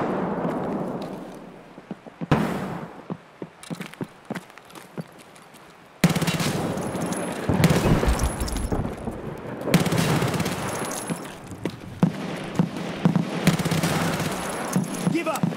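Bursts of PPSh submachine gun fire in the shooter video game Escape From Tarkov, with loud rapid volleys after a quieter opening and a voice talking under the shooting.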